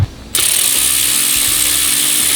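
A ratchet wrench turning a bolt to remove the starter from a small-block Chevy 355 engine in an El Camino, a fast, loud continuous clicking heard up close, beginning abruptly after a brief moment of quiet.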